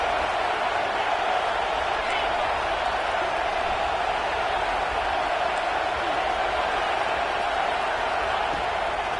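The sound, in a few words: football stadium crowd roaring on third down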